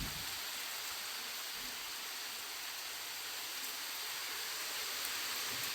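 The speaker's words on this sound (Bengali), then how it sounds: "এই দেখো পুরো বৃষ্টি হচ্ছে।" Heavy evening rain falls in wind outside a window as a steady, even hiss with no distinct drops or voices.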